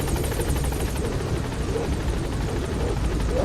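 Helicopter in Metal Gear Solid V: a loud, steady, close rotor thumping drones throughout with a constant engine hum and no pauses.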